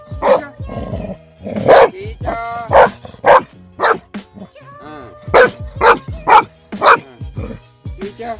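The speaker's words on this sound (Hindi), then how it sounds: "देखो गाइस इतना बड़ा पत्थर रहेगा और बस उठाने भौंकता रहेगा उसके ऊपर" A dog barks repeatedly at a large stone it is trying to lift in a farm field, giving a run of loud, close, yelping barks in uneven bursts across the whole stretch.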